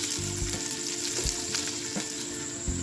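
Onions frying in a pan for dum biryani give a steady, close sizzle and crackle with soft stirring scrapes, and no talk.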